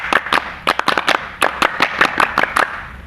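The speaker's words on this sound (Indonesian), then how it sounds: "kita awali dengan satu kali tepuk pramuka" An audience performing the rhythmic Indonesian Pramuka scout clap, a patterned series of sharp group claps in clustered bursts with brief pauses between, crisp and fairly close, no talking over it.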